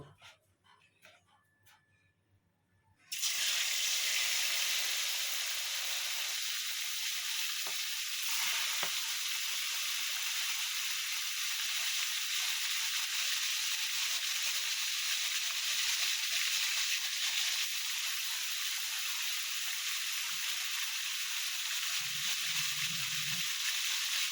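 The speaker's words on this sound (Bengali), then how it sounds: "তেলটা গরম হয়ে গেছে, এবার মাছটা ভেজে নেব।" Katla fish frying in hot oil: after a few quiet seconds, a loud, steady sizzle starts and continues without a break, with a brief low thump near the end.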